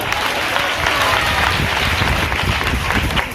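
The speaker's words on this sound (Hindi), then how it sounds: "ताली बजा के प्रभु को महिमा करो" A church congregation claps loudly in praise during a Hindi worship service, a thick continuous wash of clapping from many hands with a faint hint of voices underneath.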